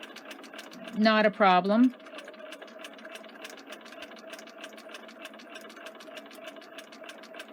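A sewing machine stitches a rolled hem in fabric, a fast, even mechanical chatter that runs steadily and fairly close. A short spoken phrase breaks in near the start.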